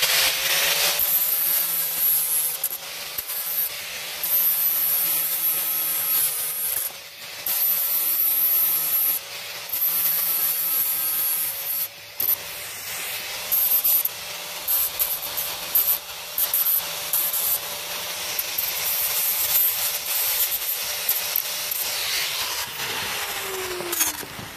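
Surface rust is scrubbed off steel rail spikes, a loud close abrasive rubbing hiss that runs nearly the whole time in repeated strokes, broken by short pauses.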